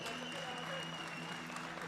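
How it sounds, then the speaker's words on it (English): Spectators at a world equipped powerlifting championship applauding the loaders, a brief soft patter of crowd clapping heard at a distance under a faint hum. "Loaders, give a round of applause, ladies and gentlemen."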